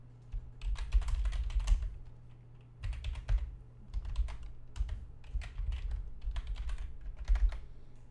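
Fingers type on a computer keyboard, close and clear, in quick bursts of rapid keystrokes separated by brief pauses.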